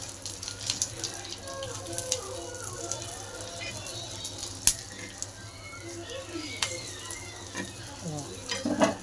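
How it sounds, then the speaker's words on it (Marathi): Green chillies fry in hot oil in a home kitchen, giving a steady low sizzle with occasional stirring clinks and scrapes throughout, faint background voices here and there. "आता बाकीच्या पण तळून घेऊ आपण"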